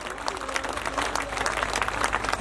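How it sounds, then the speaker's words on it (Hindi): Steady applause from a crowd, many hands clapping continuously at an even level without pause. "अब तालियां बजा सकते हो"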